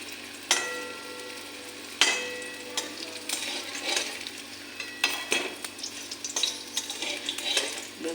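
Eggplant slices frying in a pan with ghee or butter, a steady close sizzle with sharp clacks of utensils against the pan at a few points, no talking.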